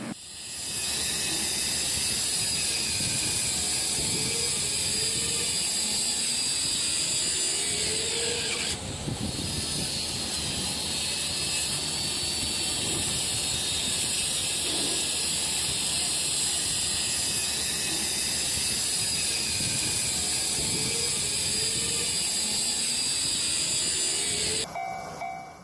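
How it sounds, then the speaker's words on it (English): A train rolls slowly through a rail wash station, its wagons creaking and ratcheting against a steady hiss of spraying water and whirring brushes, loud and continuous throughout with no voices. "have you ever seen a wash station for trains?"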